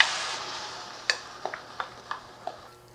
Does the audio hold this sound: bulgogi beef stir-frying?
yes